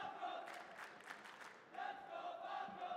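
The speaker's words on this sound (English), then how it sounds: "And you can hear the crowd." An esports crowd at a Call of Duty Warzone group-stage event roars steadily in a large arena, with rising cheers and shouts swelling after a brief dip.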